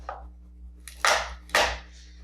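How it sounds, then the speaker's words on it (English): A knife blade pressed down hard on a garlic clove on a cutting board gives two loud, sharp crunching thuds close by, with a faint tap before them. "you're going to place the clove under the knife and gently press down"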